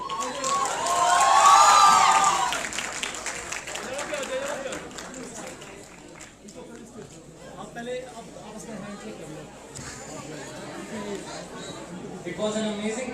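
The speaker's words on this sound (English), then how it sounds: "Ladies and gentlemen, a huge loud applause for everyone." A crowd at a university anti-drug awareness programme cheers and claps for the winners, a loud swell of shouting and applause that fades into mixed chatter and scattered cheers.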